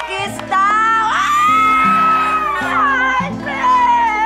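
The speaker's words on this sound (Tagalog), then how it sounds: "ang sigaw ng ating studio audience, oh, kiss daw!" A studio audience on a Filipino TV game show shouts and whoops loudly in unison, a sustained chant of raised voices that swells and holds for several seconds.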